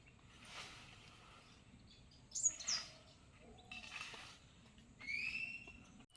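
Birds calling faintly in a Konkan village on a morning after an overnight cyclone, with a few short whistled chirps and rising notes spread apart over quiet outdoor ambience.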